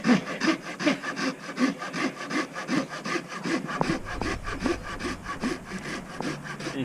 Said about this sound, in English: He's sawing up dry logs we found on the ground.